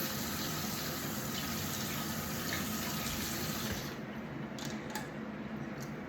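Raw chicken rinsed under a running kitchen tap: a steady, close gush of water that holds for about six seconds and thins a little toward the end, with no voices.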